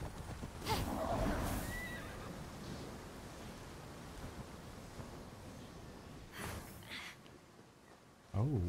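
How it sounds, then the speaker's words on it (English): Horses in the video game Immortals Fenyx Rising whinny and neigh against a steady windy or surf-like ambience, with a sudden thump of hooves at the end. "Oh, there's some more horses we could tame."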